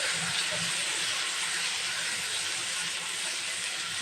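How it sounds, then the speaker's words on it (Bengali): Spice paste sizzles and sautés in a pan for chicken curry, a loud, steady hissing fry that fills the whole stretch with no pauses. "এখন এটাকে একটু ভালো করে কষিয়ে নিচ্ছি মশলাটা।"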